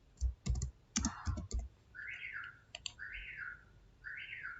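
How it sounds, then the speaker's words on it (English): A computer keyboard typed in short bursts of close clicking keystrokes, followed by a few isolated taps, while a bird chirps repeatedly in the background. "Now let me type yes,"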